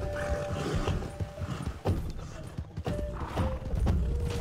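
Rhythmic hoofbeats clip-clop steadily from a video game horse, with occasional short neighs over a busy game soundscape.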